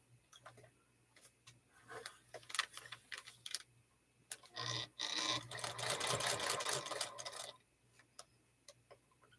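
Sewing machine stitching a Liberty box quilt: quiet ticking at first, then a steady whirring run of stitches for about three seconds, then ticking again.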